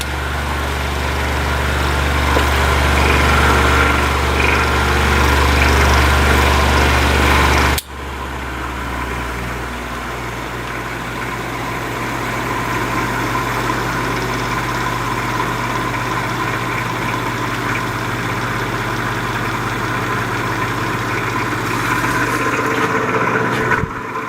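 A 1950s Patton fan with an overheating motor runs steadily and roughly, giving a loud droning hum with a strong low buzz that shifts abruptly partway through, then continues unevenly with no voices.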